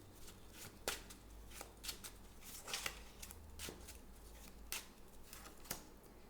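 Tarot cards being turned face up one after another, giving soft papery flicks and taps at an uneven rhythm, close and quiet with no voice.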